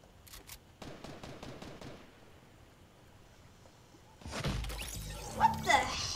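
Gunfire in the video game Fortnite: a few sharp shots early, then a louder dense burst of shooting and crashing effects near the end, with game noise underneath.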